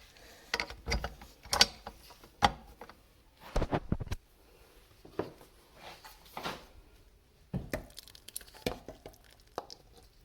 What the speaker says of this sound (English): Then I'm going to put the dough hook.